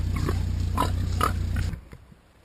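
Pigs grunting in a series of short rhythmic oinks close by, over a low steady hum, fading out toward the end.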